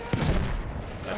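A field gun firing in the video game Battlefield 1, a single loud booming blast near the start followed by a rumbling decay within a busy battle soundscape, with a voice heard alongside.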